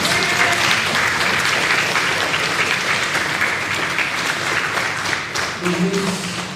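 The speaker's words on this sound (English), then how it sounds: "A round of applause for them, please." A crowd claps continuously at a primary schools quiz, a dense, even wash of applause at close range, with a faint voice near the end.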